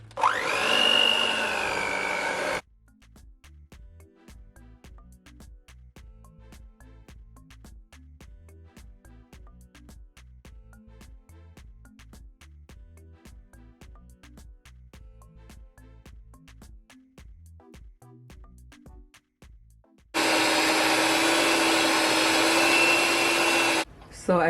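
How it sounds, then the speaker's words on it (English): Hand mixer on low speed whipping mashed potatoes, a steady close motor whir with faint rhythmic clicking of the beaters against the bowl, running alone for about twenty seconds between louder bursts of noise. "I'm gonna take a hand mixer to mix it as well, because I want it to be nice and smooth."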